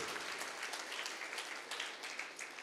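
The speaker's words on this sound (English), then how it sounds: "Give a round of applause to all the wonderful eminent personalities" An audience at a dental college anniversary celebration claps in a dense, continuous round of applause, steady and full throughout, heard from a slight distance without speech.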